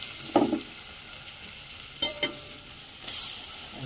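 A potato kurma base with turmeric just added, stirred in a frying pan: a soft continuous sizzle broken by a few scraping and clinking spoon strokes, close and moderately quiet, with no one speaking.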